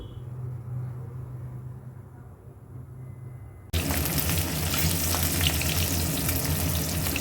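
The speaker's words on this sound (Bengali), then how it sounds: "তেল গরম হয়ে গেছে এবার মাছগুলো ভেজে নেব" Katla fish frying in hot oil, a steady loud sizzle that jumps in abruptly partway through as the fish hits the pan, after a quieter stretch of low kitchen hum.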